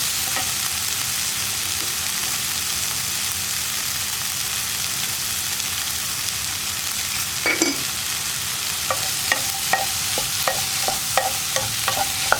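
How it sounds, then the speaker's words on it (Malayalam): Tomato curry simmers in a pan with a steady gentle sizzle, then a spoon stirs it in a quick series of close clinks and scrapes toward the end, with no speech. "ഇതെല്ലാം ചേർത്ത് നന്നായിട്ട് ഇളക്കിയതിന് ശേഷം നമുക്കൊന്ന് അടച്ചു വെച്ച് കുക്ക് ചെയ്യാം"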